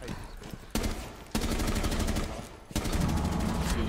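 Rainbow Six Siege gunfire, with rapid automatic bursts crackling loud and close in long sustained volleys broken by brief pauses.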